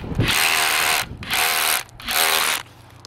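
Three loud bursts of a hammer drill chiseling mortar off brick, each lasting about a second with short pauses between, harsh rapid pounding close to the microphone.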